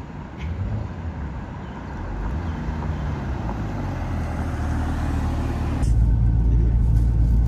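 A Porsche turbo engine accelerates hard, a loud, close, rumbling low roar that builds steadily and surges louder near the end, with no talk over it.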